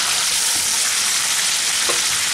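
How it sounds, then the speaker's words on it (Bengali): Fried potato and cauliflower pieces dropped into spices frying in hot oil for a vegetarian cauliflower-potato curry, giving a loud, steady, close sizzle that runs unbroken throughout. "এখন আমি এর মধ্যে ভেজে রাখা আলু আর ফুলকপি দিয়ে দিচ্ছি"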